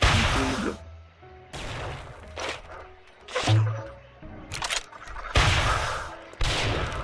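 Automatic rifle fire in the zombie survival game 7 Days To Die: loud, rapid bursts of gunfire broken by short pauses, with crashes and impact noises between volleys and no speech.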